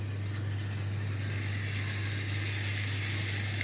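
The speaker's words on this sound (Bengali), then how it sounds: "পেঁয়াজটা লাল লাল ভাজা হচ্ছে।" Onions browning in hot oil in a pan while cooking a mutton and potato curry, a steady soft sizzle and crackle running throughout with a constant low electrical hum beneath it.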